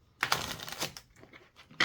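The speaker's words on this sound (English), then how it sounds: "Let's try shuffle the cards." A deck of tarot cards being shuffled by hand, giving a quick run of papery riffling and slapping sounds with short pauses, close and moderately loud, with no talking.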